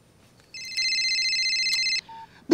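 A telephone rings with a loud, steady electronic warble lasting about a second and a half, followed by a short faint beep and a sharp click, close by and with no talking.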